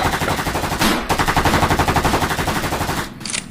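Rapid bursts of AK-47 automatic gunfire, loud and close, firing in a steady rhythmic stream of shots with a brief pause near the middle and a short break near the end.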